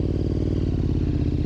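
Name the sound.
motorcycle engine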